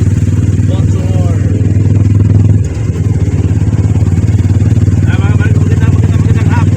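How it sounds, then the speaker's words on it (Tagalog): Rush-hour street in Santo Tomas crowded with tricycles and motorcycles, a steady loud engine drone with passing revs and rattles filling the whole stretch, while a voice talks faintly over the traffic. "Sobrang dami na mga tricycle at mga motor."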